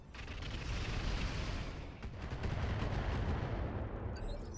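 Missile fire striking a mech in the BattleTech video game, a dense, continuous rumble of blasts and explosive impacts, loud and sustained, with no talking.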